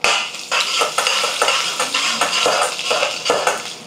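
Finely chopped garlic frying in hot oil with chana dal, urad dal, mustard and cumin seeds, a loud close sizzle broken by frequent clattering stirs of a utensil against the pan, no voices.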